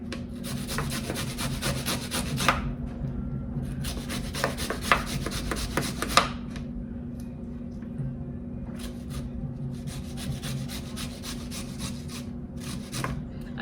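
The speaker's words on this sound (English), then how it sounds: "So I have a little handy dandy grater." Small handheld grater rasping outdoors in steady back-and-forth bursts, three long runs of scraping separated by short pauses, close and fairly loud over a constant low hum.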